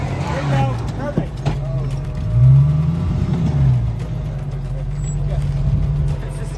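An off-road vehicle's engine on a mountain dirt trail rises in a short rev around the middle of the clip, then drops back to a rumbling idle, with people talking over it throughout.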